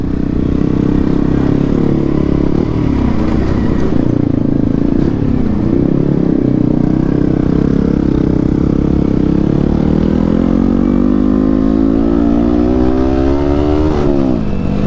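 A scooter rides along with a loud, continuous engine drone and rushing wind noise, its pitch rising near the end as it speeds up.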